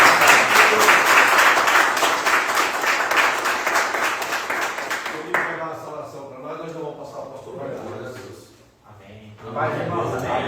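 Loud, dense applause rises from a church congregation for about five seconds, then tapers off as a preacher begins talking, with a few people still clapping faintly under his voice.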